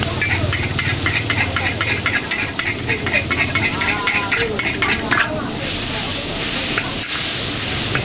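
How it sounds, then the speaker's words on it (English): Flat rice noodles, shrimp and bean sprouts stir-fried over very hot charcoal at a Penang Hokkien street stall, a loud steady sizzle broken by rapid scraping and tossing strokes, with faint background voices. "flat rice noodle over very hot kind of charcoal stir fry"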